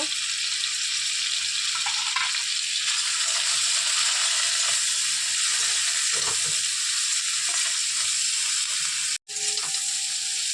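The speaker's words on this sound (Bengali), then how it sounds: "চিংড়ি মাছটা বেশি ভাজবো না, বেশি ভাজলে শক্ত হয়ে যাবে, একটু হালকা ভেজে তুলে নেব।" Prawns seasoned with salt and turmeric fry lightly in hot oil in a pan, giving a steady, close, continuous sizzle with no talking.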